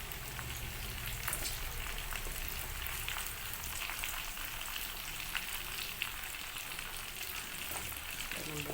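Chicken pieces frying in hot oil for biryani give a steady, dense sizzle with scattered crackles and pops throughout, close and even in loudness from start to finish.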